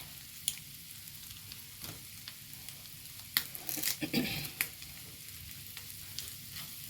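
Curry leaves stirred into egg masala frying in a pan give a steady soft sizzle, broken by a few sharp scraping clicks of the spoon and a brief burst of louder crackling midway.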